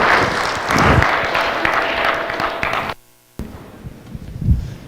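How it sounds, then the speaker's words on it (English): A staff audience applauds at a company all-staff quarterly meeting, steady dense clapping for about three seconds, then a sudden silent gap before scattered claps and room noise resume. "I'm sure you'll clap for that."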